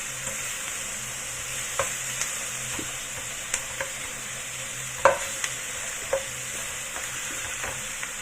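Chicken curry being stirred in a pan, with soft scraping and clinks of a utensil at irregular intervals over a steady low sizzle of frying, close and fairly quiet, no talking.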